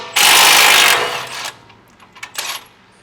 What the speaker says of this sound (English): take the bolt out on the bottom of the strut, which is a 19